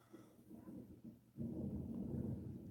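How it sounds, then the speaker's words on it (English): Low rumbling thunder rolls in the distance, building to a louder sustained rumble partway through with no voices. "There goes that thunder again."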